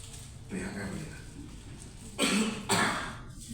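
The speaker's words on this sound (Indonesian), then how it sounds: "saya banyak batuk" A man coughs several times during a government finance meeting about civil servant salaries. The harsh, close bursts rise over a room murmur, with two strong coughs near the end.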